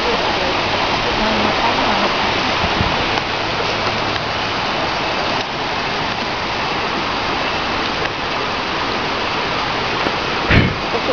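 Constant rushing of a flowing river at FRIM Kepong forest park, Malaysia, loud and close, a broad steady wash of water with brief faint voices underneath.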